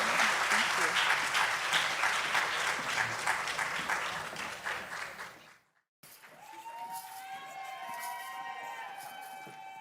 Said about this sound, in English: I'd love it if we could all thank Chanel and Virginia with a round of applause